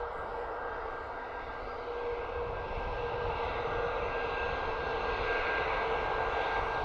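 Airliner taking off at Dublin Airport, a steady broadband jet engine roar with a sustained whine, holding loud and constant throughout, no voices over it.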